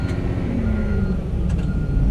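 Heavy diesel engine rumble with a faint, steady high-pitched beeping repeating over it, as a large dump truck backs up nearby.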